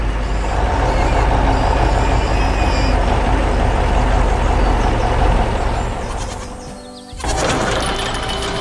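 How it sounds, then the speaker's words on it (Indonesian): A white truck rumbles over rough terrain with a heavy, continuous low engine drone and rattling, loud and close, dipping briefly before resuming. "Truk putih sedang melintasi medan yang keras."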